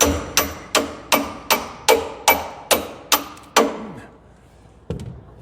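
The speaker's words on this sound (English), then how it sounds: "I need a hammer." A hammer strikes metal about ten times in a steady rhythm, close and sharp, then one final blow after a short pause, pinning a Challenger 2 tank's track reaction arm.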